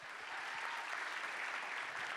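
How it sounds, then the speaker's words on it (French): Audience applause at a handmade cosplay contest at a Japanese culture convention, a dense, even patter of many hands clapping, faint and somewhat distant, with no talk over it. "on peut les applaudir encore une fois"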